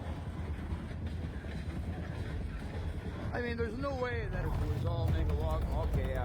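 An EMD GP38 diesel locomotive of about 2,000 horsepower hauls a heavy timber train through a forested valley, producing a continuous low rumble and rolling drone that grows slightly louder as someone talks over it.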